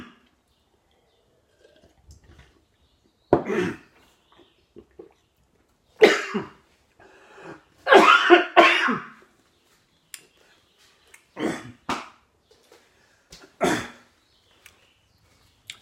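A man coughs repeatedly in a harsh, close series of bursts, a cluster of several hacking coughs followed by a few more scattered coughs and throat sounds, with quiet pauses between.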